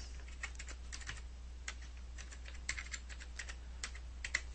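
Quick, light keystrokes on a computer keyboard as a file name is typed into a save dialog, an irregular run of soft clicks over a low steady hum, with no talking.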